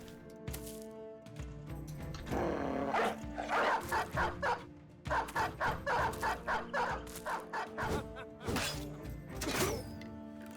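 Dogs bark in a video game fight, sharp repeated yelps in a quick rhythmic run with a few louder cracks, close and clear over background game music, with no talking.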